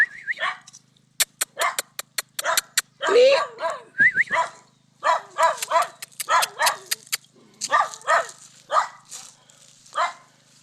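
A pet dog at a rural banana grove barks in short, sharp bursts interspersed with whimpers and yips, close and loud, while a person talks between the barks.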